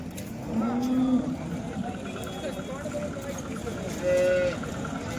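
At a busy rural cattle market selling cows and young heifers, low moos rise now and then over steady crowd chatter, with one longer call near the end while people talk.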